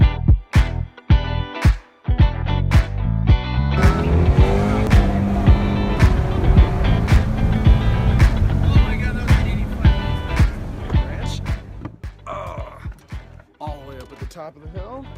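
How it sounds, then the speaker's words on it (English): A Ford Mustang GT350R driving off-road on gravel, its engine revving and rising in pitch, loud and close, with voices talking over it. "off-roading with the GT350R"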